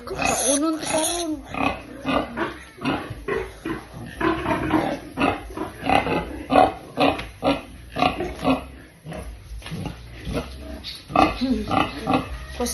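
A pig being scrubbed, repeated grunts and squeals in uneven bursts over rubbing noises, with people talking throughout close by.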